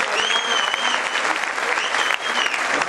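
Dense, steady audience applause fills a comedy show hall, loud and sustained throughout with a few whoops and crowd noise mixed in.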